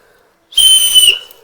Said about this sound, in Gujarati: જો સિસોટી વાગી જો પંખો પંખો ફેરો